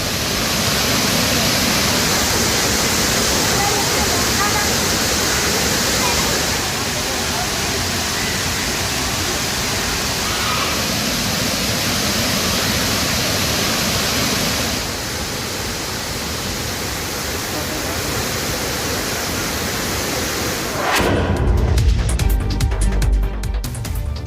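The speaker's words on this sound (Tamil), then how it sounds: "கன்னியாகுமரி அருகே திருப்பரப்பு அருவியில் வெள்ளப்பெருக்கு குறையாததால்" Floodwaters roar over Thirparappu waterfall near Kanniyakumari, a loud, continuous broadband rush that holds steady throughout, with a deeper rumbling surge near the end.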